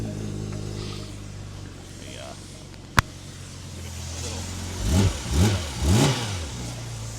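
A 2026 Porsche 911 GT3 with PDK and a lightweight flywheel fires up with a sharp click, settles into a low idle, then snaps through three quick, loud revs that fall away just as fast.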